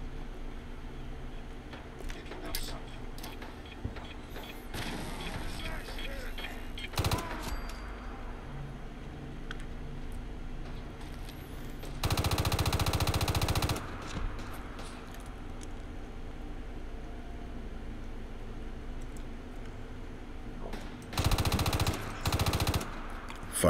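Fallout 4 video game gunfire: bursts of rapid automatic shots, including a sustained loud burst and later a pair of short bursts, over a low ambient game rumble with a few scattered single shots.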